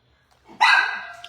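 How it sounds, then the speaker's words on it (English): An indoor pet dog lets out a single loud, close bark after a near-silent moment, reacting to passersby outside, and the bark trails off without any speech. "Hold on, I'm going to let her out just so she stops barking."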